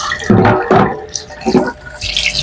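Guava leaves being rinsed under running tap water, with a few bursts of splashing and water flow over the leaves in quick succession, then a softer, steady trickle.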